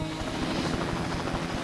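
A helicopter's rotor beats in a steady, rapid thumping chop under a continuous engine whine, held at an even, moderate level throughout.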